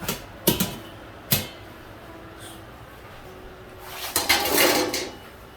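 Roasted maple squash tipped from a pan into a cooking pot in a home kitchen, with a couple of sharp clanks of metal early on and a louder rattling, scraping clatter of pieces sliding in near the end, close and alone.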